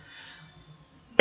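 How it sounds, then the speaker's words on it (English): One sharp cough bursts out loudly right at the end, after near-silence with faint low background hum. "Excuse me, cough starting again."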